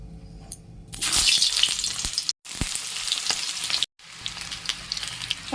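Parboiled potatoes drop into hot oil in a kadai wok and burst into a loud, close sizzle that holds steady, broken by two brief silent cuts.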